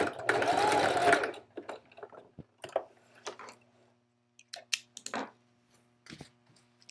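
A sewing machine stitches elastic in place on a garment with a loud continuous burst at first, then shorter intermittent bursts of stitching and handling clicks, recorded close in a quiet room.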